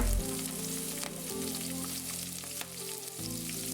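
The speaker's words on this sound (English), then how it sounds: "Fry this for around 1 to 2 minutes." Green and red chillies fry in a pan, giving a steady close sizzle that holds throughout with a brief dip near the middle and no talking.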